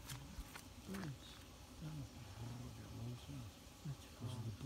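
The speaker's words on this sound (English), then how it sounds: "Those are the bullfrogs." Low, groaning calls repeat every half second or so, with faint buzzing insects and occasional clicks in a quiet outdoor setting.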